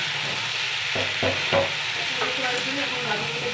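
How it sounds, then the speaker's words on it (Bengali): Shredded cabbage and green peas stir-fried in a hot pan give a steady, loud sizzle throughout, broken by a few scraping stirs of the spatula. "এখন বাঁধাকপিটা দিয়ে একটু নেড়ে চেড়ে দিচ্ছি।"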